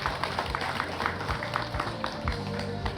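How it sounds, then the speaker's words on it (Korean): An audience at a memorial ceremony for victims of the Nogeun-ri incident claps in a steady, fairly close burst of applause that lasts about three seconds, with some crowd murmur underneath. "박수로 맞이해 주십시오"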